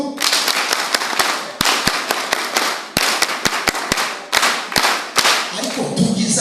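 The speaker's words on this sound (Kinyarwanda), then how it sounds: "Imana amashyi ya spesiyali ndashaka ko mufasha tukayakora murafasha rimwe kabiri gatatu" Church congregation giving God a special round of applause at a gathering, a loud crowd clapping broken up by sharp, evenly spaced claps in a collective rhythm, with faint voices in the background.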